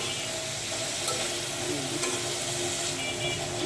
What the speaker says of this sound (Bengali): হালকা একটু সিদ্ধ করে নিচ্ছি।